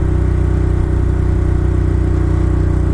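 A Ducati Monster's V-twin engine drones steadily while riding, a loud, continuous low throb with no talk over it.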